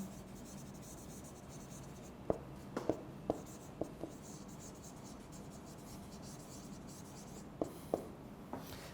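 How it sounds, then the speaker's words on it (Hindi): Marker or chalk writes on a board during an English lecture: faint scratchy strokes and a few sharp taps in two clusters, over a quiet room hum. "लिख देता हूं"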